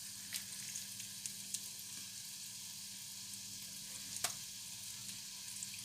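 Plantain fritter batter piped into hot oil, frying with a steady low sizzle and a few sharp crackles and pops, heard close and alone.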